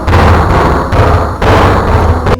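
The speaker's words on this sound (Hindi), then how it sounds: "बहुत तेज़ ईंटें गिरने की आवाज़ आई" Bricks crash down heavily, like a wall collapsing, in two loud, close, rumbling bursts of debris, one after the other.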